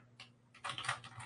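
Computer keyboard typing, a short run of quiet, quick clicking keystrokes in an irregular rhythm, close and faint.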